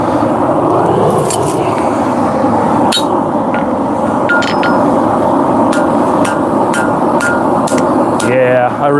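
A hammer rings out in a series of irregular, sharp strikes on knife steel against an anvil while forging a Bull Pin knife, set over a loud, steady roar of the shop.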